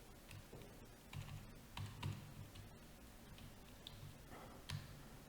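Typing on a computer keyboard while entering a list of names, close and fairly quiet: irregular clusters of key taps with occasional firmer single presses, alone without talk.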